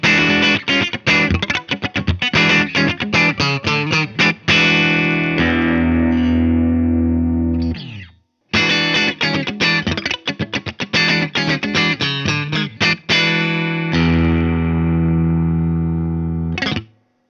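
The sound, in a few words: Baum Vega Verve electric guitar, middle pickup position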